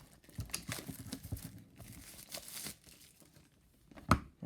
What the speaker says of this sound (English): I'm just going to peel the plastic off the box.